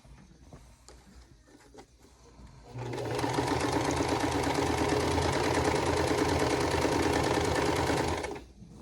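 After a quiet start, a sewing machine stitching quilt sashing runs at a fast, steady whirr for about five seconds, close and loud, then stops abruptly.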